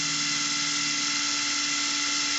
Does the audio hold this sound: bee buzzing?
no